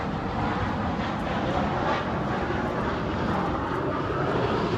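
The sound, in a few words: airplane passing overhead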